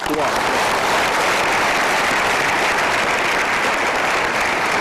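Audience at a seminar breaks into loud, sustained applause, dense continuous clapping filling the room from start to finish.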